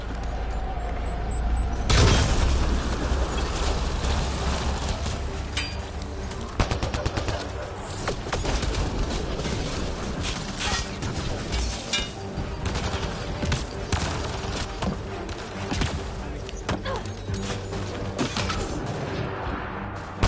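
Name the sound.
rifle gunfire in video game Mass Effect Andromeda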